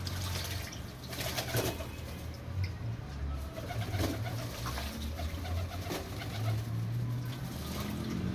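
Pigeons coo and flutter close by, with splashing and wing flaps in shallow water against a steady background hum.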